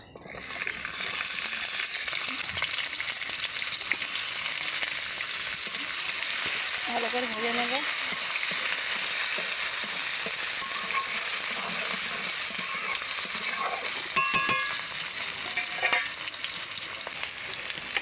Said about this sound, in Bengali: তেল গরম করে নেওয়ার পর পেঁয়াজগুলো দেবো